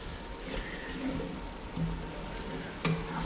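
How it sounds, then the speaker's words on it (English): Red wine cooking off in a hot pan while elk shanks braise, a steady soft sizzle and bubbling with a couple of brief clinks of a utensil, close and fairly quiet throughout. "You're gonna wanna let that cook off for a little bit because if you don't, the alcohol in the wine tastes weird."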